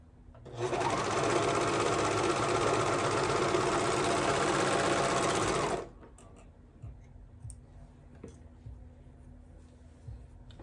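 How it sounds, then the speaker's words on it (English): A sewing machine stitches the side seams of baby bell-bottom pants, running steadily and loudly for about five seconds with a fast mechanical hum, then stopping to faint handling clicks. "And we're gonna sew down the side."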